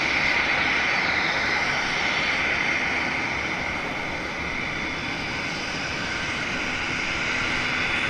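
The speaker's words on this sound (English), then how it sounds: "there goes the Toronto flight in the background" A jet airliner on the Toronto flight departs Vancouver Airport, a continuous heavy engine roar with a broad hissing edge, loud and steady across the whole stretch with no talk.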